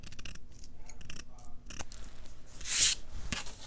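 Scissors snip close up through printed paper words, giving a run of quick, light, crisp cuts with one louder slicing crunch near the end, and soft paper rustling between the snips.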